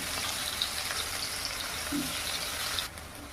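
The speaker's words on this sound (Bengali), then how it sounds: "ভালো করে ভাজছি যাতে বেরেস্তার মতন হয়।" Onions frying in oil until golden for a chicken dish, a steady soft sizzle with faint crackles and a brief stirring clink, fairly quiet and continuous without talk.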